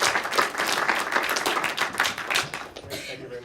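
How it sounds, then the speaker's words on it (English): Warm applause from a seminar audience welcoming a science speaker, a dense patter of many hands clapping steadily at close range and tapering slightly near the end. "And let's give him a warm applause."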